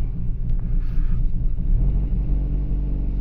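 A Vauxhall Corsa with an O2 sensor fault and misfire codes idling roughly, a loud, close, uneven low engine rumble with a lumpy pulse throughout and no talk.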